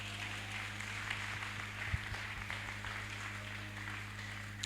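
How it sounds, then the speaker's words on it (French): A Baptist church congregation in Carrefour applauds the Lord during Sunday worship. Faint, steady clapping sits far back under a constant low electrical hum, with a few louder thumps partway through. "Nous applaudissons le Seigneur plus fort."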